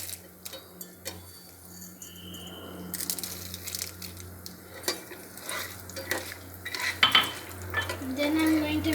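A seed mixture is stirred into Andhra-style mango rice in a pan, with soft scraping and clinking of a spoon against metal and light sizzling throughout, busier toward the end.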